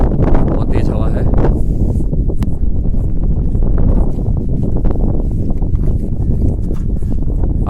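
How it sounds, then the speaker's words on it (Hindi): Strong gusting wind at a lakeside viewpoint in Nainital roars continuously across the microphone, loud and close, while someone talks over it. "बहुत तेज हवा है।"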